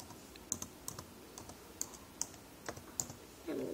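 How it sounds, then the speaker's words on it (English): A password being typed on a computer keyboard: roughly eight sparse, quiet keystroke clicks at an irregular pace, followed by a short, louder rustle at the end. "I'm going to type in my password again."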